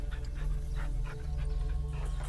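A dog in a video game pants in quick rhythmic bursts with faint whimpers, close and steady, layered over a humming low backdrop of game sound and no speech.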